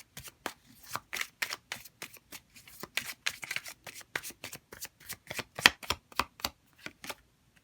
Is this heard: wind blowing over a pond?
no